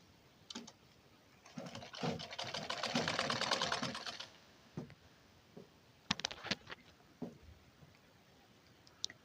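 A sewing machine runs a seam around the neckline of a plain blouse, a close buzzing burst of a couple of seconds followed by scattered clicks and handling taps.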